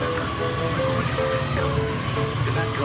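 A D16 camera drone flies outdoors in strong wind, its propellers giving a steady, close whirring hum with faint tonal whine, backed by continuous wind rush for the whole stretch.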